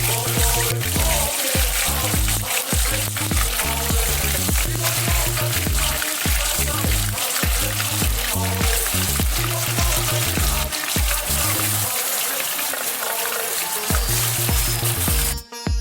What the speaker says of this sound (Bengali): তেলটা মোটামুটি গরম হয়ে গেছে, এবার আমি আস্তে আস্তে চিকেনটা ছাড়বো।